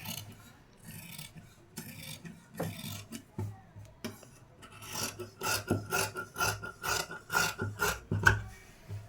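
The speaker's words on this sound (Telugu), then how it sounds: "ఇప్పుడు మార్క్ చేసినది కట్టింగ్ అయితే చేసుకోవాలి" Marked blouse fabric is cut along its drawn lines, giving close, rhythmic rasping cuts. They come in quick repeated strokes that grow more regular and louder toward the end.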